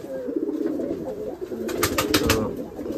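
Rajshahi Giribaz pigeons coo close by in a low, rolling murmur, with a brief burst of wing flutter or rustling in the middle.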